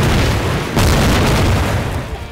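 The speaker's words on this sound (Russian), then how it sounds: "Еще разок, бомбу." A loud, close bomb blast in Garry's Mod booms with a heavy low rumble that rolls on and slowly fades; faint voices are also present.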